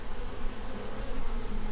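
Honeybees buzz in a steady, dense drone, close and continuous throughout with no voices.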